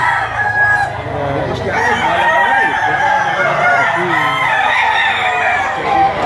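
A rooster crows close by amid a busy, loud crowd of chickens at a market where birds are being sold, the calls blending into a continuous dense din.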